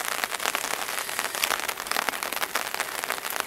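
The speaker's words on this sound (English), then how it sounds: "It was quite a downpour, and the thunder is still going, and it's still raining" Heavy rain pours steadily during a thunderstorm on a spring solo canoe trip in the boreal forest, a dense, continuous hiss of drops drumming on surfaces, close and even, with no voices.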